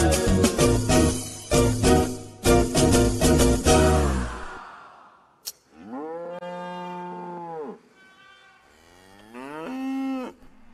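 A cow lows in several long, loud moos, alone after a burst of lively tropical sanjuanero music, during a Colombian rural milking scene.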